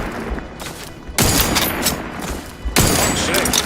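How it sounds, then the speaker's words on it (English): Rapid bursts of gunfire in the video game Outer Worlds 2, loud sustained volleys with brief pauses, a faint voice underneath. "Someone is shooting. Yeah, they sure are shooting."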